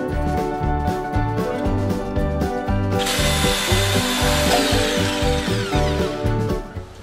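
A power saw cuts wood for a bench seat in a loud, rhythmic, pulsing stroke that shifts to a harsher, brighter cutting roar halfway through, close up and steady until it winds down at the end.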